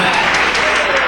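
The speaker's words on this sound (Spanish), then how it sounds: "Dale ese aplauso al Rey en esta noche." A congregation at a church service claps loudly and continuously in a dense, sustained burst, with a voice faintly mixed into the crowd noise.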